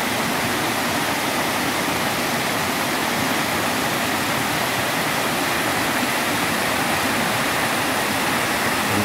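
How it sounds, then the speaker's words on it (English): Rushing water from a stream and grand waterfall on the Hornbeck Trail pours in a constant, loud, broadband roar, steady and unbroken from start to finish with no voices. "Beautiful streams."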